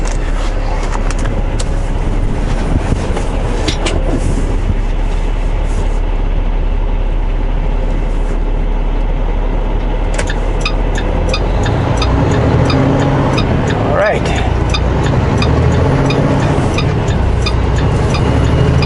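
A vehicle passes on a road while heard from inside a stopped truck, a steady loud rumble and road noise building slightly toward the end, with no talking.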